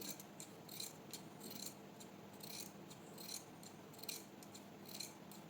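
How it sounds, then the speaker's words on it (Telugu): Scissors cutting excess cloth while stitching thread piping, a series of crisp, close snips repeating at an uneven rhythm, each a short metallic crunch, with no talking. "కబాబ్ని కట్ చేసుకోవాలి ఒక పావించి ఉండేలా చూసుకొని ఇలా ఎక్స్ట్రా క్లాత్ని ఇలా కట్ చేసుకోండి"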